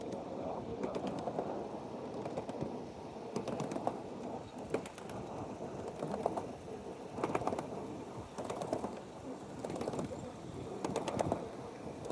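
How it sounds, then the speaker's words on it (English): A trapped pigeon or dove coos repeatedly in soft, rhythmic bursts against a steady background murmur, with occasional flutters and mechanical clatter nearby. "there's a bird being trapped."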